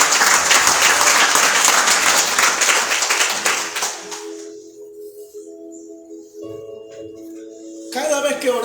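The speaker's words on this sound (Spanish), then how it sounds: "Denle un aplauso a Jesucristo." A church congregation in Envigado, Colombia, breaks into loud clapping that fades out after about four seconds, giving way to a quiet sustained tone before a brief burst of sound returns at the end.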